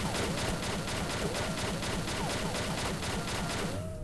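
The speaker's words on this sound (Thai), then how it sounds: "เดี๋ยวเราจะมาลองยิงลูกซอง EX 8ดาว c o m p e t e World Immortal นะครับ" Rapid repeated shotgun blasts from the EX 8-star World Immortal shotgun in the online shooter XSHOT, a steady loud volley of shots throughout with no talking.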